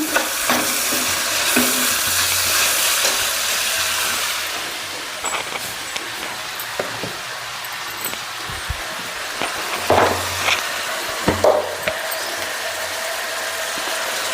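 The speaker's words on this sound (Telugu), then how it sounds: "ఉప్పు వేసి ఒకసారి కలుపుకుందాం" A spoon stirs salt into a dried-fish curry simmering in a pan, giving scattered scraping strokes over a steady frying sizzle, close by with no talk.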